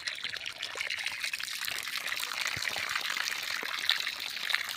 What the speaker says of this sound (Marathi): घासामध्ये अंजिराच्या झाडाला पाणी सोडले